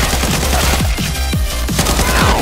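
Rapid automatic fire from an AK117 in a mobile shooter game, loud close bursts of sharp cracks in quick rhythm with brief pauses, ringing on continuously.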